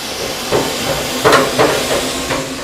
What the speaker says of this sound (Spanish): Ahora inyectamos el vapor.